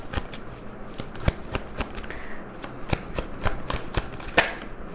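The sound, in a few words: shuffling tarot cards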